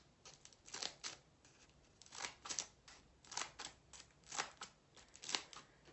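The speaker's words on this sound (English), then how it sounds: "take the scissors that you're going to use and just cut through it" Scissors cut through folded aluminum foil in quiet, close crisp snips, about half a dozen crinkly cuts in a loose, regular rhythm with no talking.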